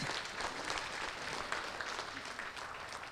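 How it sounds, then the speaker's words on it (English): Faint, fairly distant applause from the audience at a seaside hackathon awards ceremony, a short steady patter of clapping lasting a few seconds, quiet and without talk over it. "one more applause for Candy Lane"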